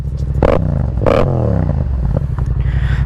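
A 2015-2017 Yamaha FZ-07 motorcycle engine revving loudly up close, with two sharp throttle blips over a steady idle rumble and no talking.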